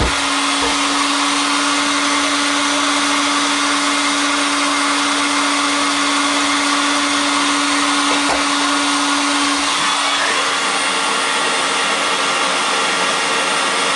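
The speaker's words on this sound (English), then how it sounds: "put the heat gun here" A heat gun blows a steady, loud airflow with a constant whine while it strips material from CPU parts for gold recovery. The tone runs unbroken and near for about ten seconds, then shifts slightly as the gun is moved.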